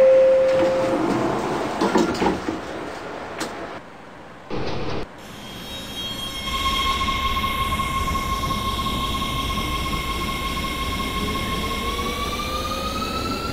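A WMATA DC Metro 1000 Series Rohr train on the Red Line in the Openbve simulator game pulls away, its motors rising into a steady whine over rolling track noise after a few short mechanical clunks.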